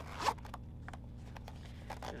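A zipper on a fabric storage bag is pulled in a short quick burst, followed by faint scratchy rustling and small handling noises close by in a quiet room.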